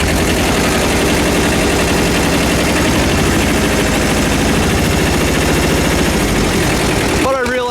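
A loud two-cylinder Kubota tractor engine chugs steadily and unevenly at close range, a coarse rapid putter throughout, cutting off abruptly near the end.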